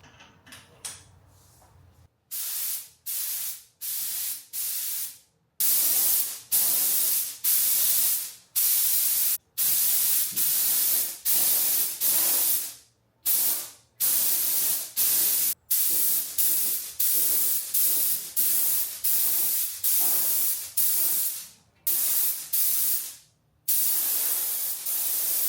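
A spray can lays down soft mist coats of metallic paint in a garage, with repeated loud hissing bursts of a few seconds each, separated by short silent breaks.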